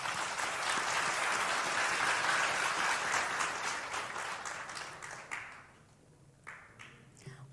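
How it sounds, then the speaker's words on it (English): Audience at an OJK–OECD conference applauding after closing remarks, a broad wash of clapping that holds steady and then thins out, leaving a few scattered late claps near the end. "Once again, please give applause to Mr. Tita Segara."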